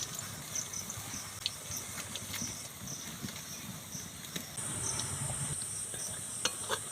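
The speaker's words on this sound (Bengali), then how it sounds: "সেই জন্য অল্প জালে এটা ভেজে নিতে হবে" Banana and rice-flour ladikini balls fry gently in oil over low heat, giving a steady soft sizzle with faint stirring clicks and a brighter hiss toward the end, heard alone without talk.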